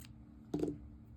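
A single quiet snip of scissors cutting yarn off a knitted blanket, short and close against a faint room hum.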